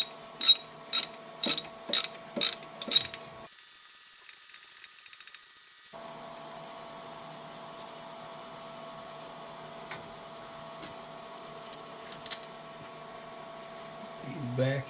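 A ratchet tightens bolts on a Kubota KX-91-2 excavator during a water pump job, giving a quick run of six rapid close clicks, then a low steady hum with one later faint click and a brief rustle.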